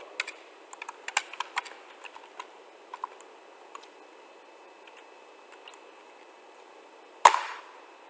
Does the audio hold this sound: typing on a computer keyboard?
yes